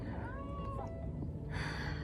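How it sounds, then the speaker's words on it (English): A cat gives a single drawn-out meow, rising and then falling, over a low background rumble, followed by a brief rustle. "Come here, kitty. Come here, kitty."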